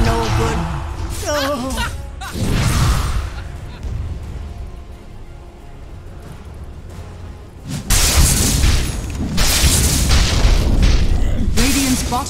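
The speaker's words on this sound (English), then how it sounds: "Radiant's bottom tower is under attack." A Dota 2 match with the Radiant bottom tower under attack brings booming explosions and ability impacts in loud bursts, separated by a quieter stretch, while people talk over the action.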